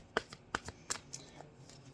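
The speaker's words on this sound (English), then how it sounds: "I'm just shuffling my cards." Tarot cards being shuffled by hand, giving a few soft, crisp riffling flicks and taps up close at an irregular pace, alone and fairly quiet.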